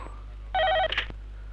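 A telephone rings at night in a film scene, one short electronic ring burst heard clearly and close over a steady low hum, followed by a brief clunk.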